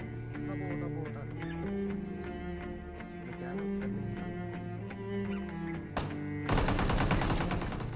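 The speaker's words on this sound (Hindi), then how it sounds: "सड़क की दूसरी साइड हॉस्पिटल की तरफ से कुछ गन शॉट्स आ रहे थे" PUBG gameplay gunfire: a dense burst of automatic shots erupts near the end, cutting in over steady tonal background music that fills most of the clip.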